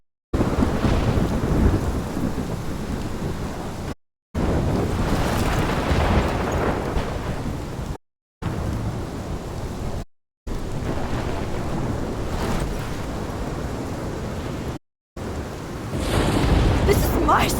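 Thunderstorm in Life Is Strange, heavy pouring rain and wind with deep rolling thunder, loud and sustained in several long stretches broken by brief silences.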